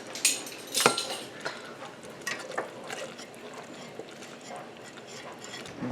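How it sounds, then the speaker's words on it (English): A spoon stirs queso ingredients in a pot, giving irregular metallic clinks and soft scraping knocks at close range, loudest near the start. "And go ahead and stir all those in."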